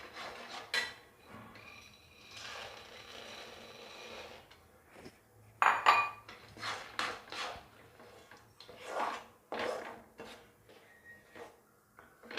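Roasted gram is tipped into thick jaggery syrup in a pan, bringing quiet, intermittent metallic scrapes, clinks and stirring rubs, close up and without any talking.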